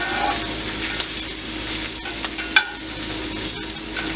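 Garlic sizzling in a pan for sauce picante, with a close, continuous frying hiss, a few stirring scrapes, and one sharp clack of a utensil partway through.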